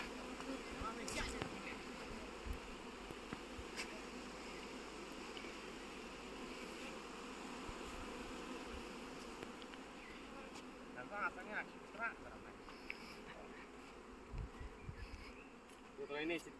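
Package honeybees buzz steadily in a dense, close drone, with brief louder knocks and rustles near the end.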